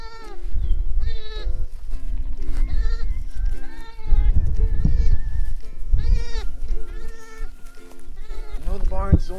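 Several ewes and lambs bleat repeatedly in a barn on a sheep ranch, overlapping high and low calls close by, with shuffling movement beneath.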